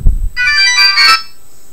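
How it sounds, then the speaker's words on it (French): A brief bright electronic ringtone melody from a Mini Fashion mobile phone after a low thump, clear and close, lasting about a second with no voices. "une quinzaine de sonneries disponibles."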